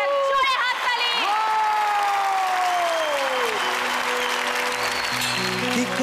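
Audience applause at a Zee Bangla TV singing show, a steady, loud wash of clapping through the whole stretch, with sustained musical tones and a few voices rising over it.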